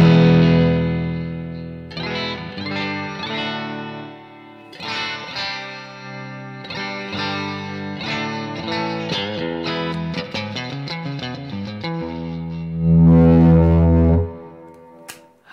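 Electric guitar played through an amp with distortion gain set from a remote gives a heavily driven, saturated tone, with chords and single-note runs ringing with effects and a loud final strum.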